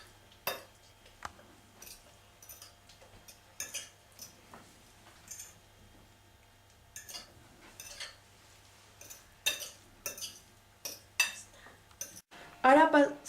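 Utensils clink and scrape against a dish while rice and then meat for silpancho are plated, sparse close taps and clatters over a low steady hum, with a brief voice at the end.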